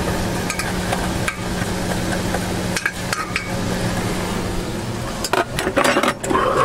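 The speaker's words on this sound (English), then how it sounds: "Some onions, carrots. Stir it around a little bit." A spoon scrapes and clinks as onions and carrots are stirred inside a metal pressure cooker pot, with irregular close knocks and scrapes and a faint sizzle underneath.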